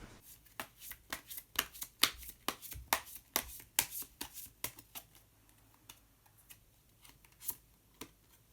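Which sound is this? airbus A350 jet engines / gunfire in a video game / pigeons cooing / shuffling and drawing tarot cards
shuffling and drawing tarot cards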